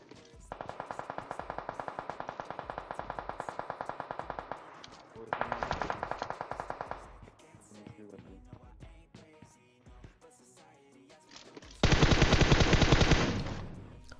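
Rapid bursts of UZI submachine gun fire in PUBG Mobile, loud and close, several sustained rattling volleys separated by short gaps, with a heavier final burst and faint background battle noise.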